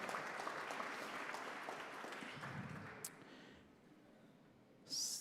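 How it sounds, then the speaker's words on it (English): Applause at a Georgia PGA awards banquet: a ballroom audience claps in a broad, diffuse wash that slowly fades over a few seconds, followed by a brief sharp clatter near the end. "You can clap for him."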